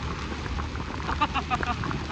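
Soft, steady rain patters in the background at a waterfall, a faint hiss with a few brief louder splashes.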